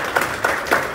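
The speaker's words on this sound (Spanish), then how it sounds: "Un aplauso." Brief, muffled applause from a small group at a merchants' association assembly in Cholula, with a few distinct claps standing out in the short burst.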